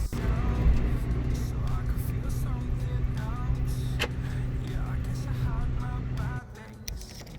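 Volkswagen Golf driving to the back of a complex, a steady low engine and road rumble that holds throughout and then drops away near the end, with a few faint knocks and clicks on top.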